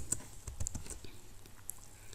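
Typing on a computer keyboard, a quick run of soft clicking keystrokes, close but quiet, in an uneven rhythm with no voices.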